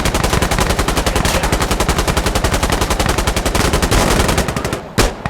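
Sustained machine-gun fire rattles in Insurgency Sandstorm, with a loud, rapid, evenly spaced burst lasting nearly five seconds before it cuts off, followed by one last sharp shot.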